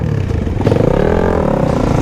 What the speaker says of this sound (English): So we are out on the KX450X.